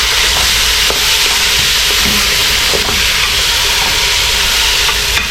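Curried goat meat being stirred in a pot over high heat, a steady loud sizzle and hiss of frying with faint scraping, continuous and close throughout.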